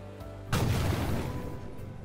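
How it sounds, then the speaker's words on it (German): A car exploding after driving into water in the city-building game Highrise City, a sudden deep boom halfway through that rolls on into a long fading rumble. "Aber eine schöne Explosionswelle"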